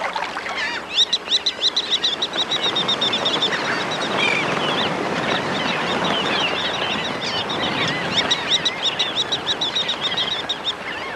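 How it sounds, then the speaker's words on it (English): A flock of shorebirds, sanderlings, red knots and ruddy turnstones, feeds on a beach during an egg feast. Dense, loud overlapping chirps and piping calls come in rapid bursts over a continuous noisy wash. "sanderlings, redknots, ruddy turnstones descend on the beaches to partake of an egg feast."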